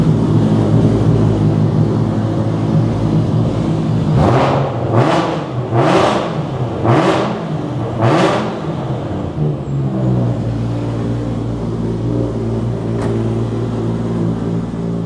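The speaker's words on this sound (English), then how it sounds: "can you give us some revs?" A 1000hp BMW E92 M3 drift car with an RB26 engine blips its throttle in five sharp, loud revs in quick succession, rising and falling over a rough idle that continues before and after.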